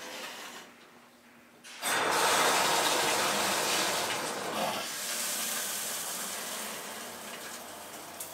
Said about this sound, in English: One final shot I'm going to get is just of the water